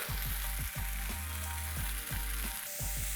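Tomato and spice masala sautéing in a pan, a continuous bright sizzle over a low rumble broken by repeated scraping strokes, close and steady.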